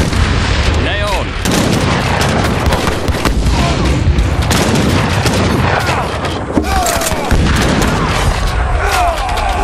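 Continuous booming blasts and gunfire-like bursts from the video game Age of Empires III: Definitive Edition pile up in a loud, chaotic barrage, with shouting voices buried in the din.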